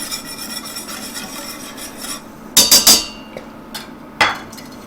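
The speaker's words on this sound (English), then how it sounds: "we're going to whisk this around until the sugar is all melted in" A whisk scrapes through coleslaw dill dressing as sugar dissolves, making a cluster of brisk metallic strokes and then a single later stroke over a low background hum.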